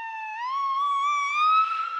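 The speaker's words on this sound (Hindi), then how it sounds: "पुलिस का सायरन आपकी जेब में से आ रहा है" A police siren ringtone from a mobile phone in someone's pocket slowly rises in pitch, bright and steady, playing alone at moderate volume.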